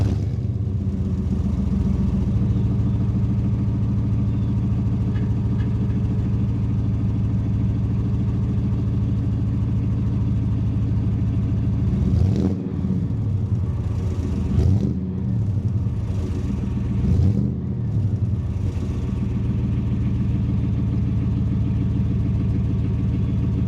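A Chevy V8 pickup truck engine on a cold start idles with a steady deep rumble throughout, with a few brief revs or surges midway before settling back to a rough idle.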